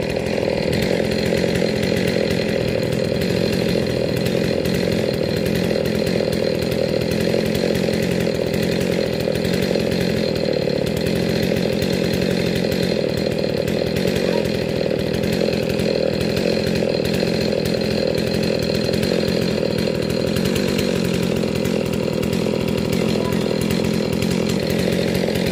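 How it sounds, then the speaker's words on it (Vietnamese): A chainsaw roars continuously at close range, its loud buzzing engine steady throughout as it cuts the top off a royal palm tree. "đưa máy cưa bự lên cưa cái phần"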